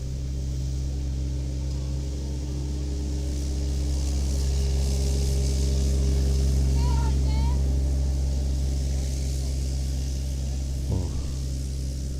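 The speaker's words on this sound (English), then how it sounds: "we're just waiting for a tractor to pass, still cutting grass" A tractor cuts grass beside a cricket field, giving a constant low engine drone that swells slightly toward the middle, heard at moderate distance with faint background sounds.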